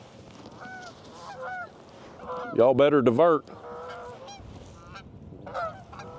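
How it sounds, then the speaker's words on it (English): Geese honk loudly as they fly close overhead above a kayak on Fort Loudon Reservoir, a burst of harsh overlapping calls peaking midway among scattered fainter honks, with someone speaking briefly. "we got these geese coming right at us"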